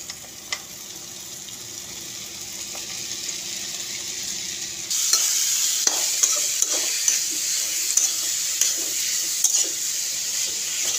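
Cut radish and potatoes fry with salt and turmeric in a hot pan, giving a steady sizzle that grows louder and denser about halfway through, with occasional scraping stirs and light clinks throughout.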